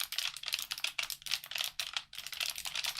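Fast, steady typing on an Asus ROG Claymore 2 mechanical keyboard with blue keycaps, recorded close up in cardioid mode, dense clicky keystrokes with brief pauses.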